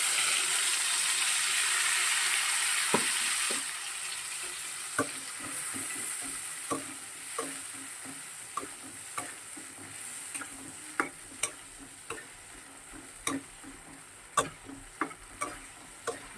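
Turmeric, salt and cumin paste with split green chillies frying in a pan: a loud steady sizzle that drops back after a few seconds, with irregular sharp ticks and pops of a spatula scraping the pan, no voices.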